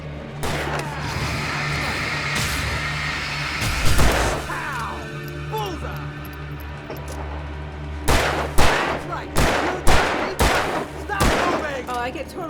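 Enemies firing guns in the video game Alan Wake Remastered, a run of loud sharp broadband shots clustered near the end over a steady game ambience, with a heavier crash midway.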